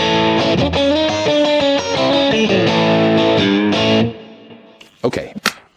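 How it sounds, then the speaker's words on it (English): Gritty, slightly distorted PRS SE Custom 24 semi-hollow body guitar on its two central single coils, with a bright, twangy crunch, playing chords for about four seconds, then a few faint clicks and thumps. "Let's hear the 2 central singles with a crunch."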